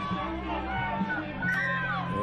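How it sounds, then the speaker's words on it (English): A rugby league grand final crowd rallies behind Otara, a continuous far-off roar of cheering and shouting with a commentator talking over it. "Crowd trying to keep them going."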